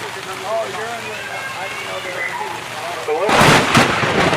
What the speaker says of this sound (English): Okay, I'm sorry, but Big Todd was just throwing some thunder and lightning at us.